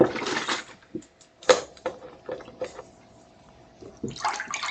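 Almond milk is poured for a banana meringue pudding in a kitchen, a splashing liquid stream in short bursts with light clinks between pours.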